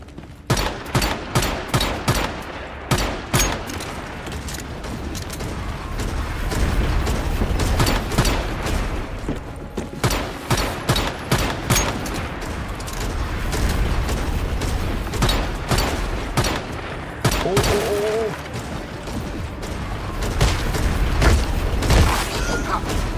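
Gunfire in a retro PS1-style horror video game: rapid repeated shots and booming blasts fire in dense bursts throughout, loud and continuous, with brief pauses between volleys and a voice faintly under the noise.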